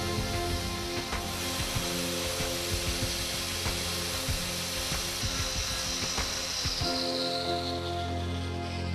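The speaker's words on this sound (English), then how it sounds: "Then the material is sanded down 1 mm over a width of barely 20 mm at both ends." Steady abrasive sanding on a plastic car bumper during repair, a continuous close rasping scrape that runs unbroken and alone, easing off near the end.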